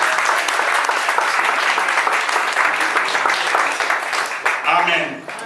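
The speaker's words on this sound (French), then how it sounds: "Acclamons fort le Seigneur Jésus." A church congregation claps loudly and continuously, with cheers and voices mixed in, and the applause thins toward the end.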